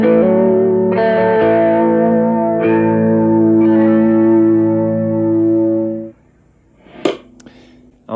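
An electric guitar with two pickups switched in series and in phase plays a thick, smooth distorted phrase with echo for about six seconds, then cuts off, leaving faint noise and a brief soft voice-like sound near the end.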